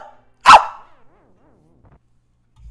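A single sharp dog bark from a randomized Zelda: A Link to the Past game, followed by faint chiptune-style descending notes and quiet game sounds.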